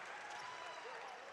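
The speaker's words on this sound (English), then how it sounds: "he gets a great round of applause from the Dragon bench" Applause rises from the Dragons bench and the home fans at a men's college basketball game, a steady broadband clatter of clapping filling the whole moment with crowd noise around it.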